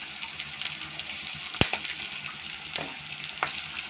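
Panch phoron spices sizzle in hot oil with reddened onions and green chilies, a faint continuous frying crackle broken by a few sharp pops and stirring scrapes, with no talking.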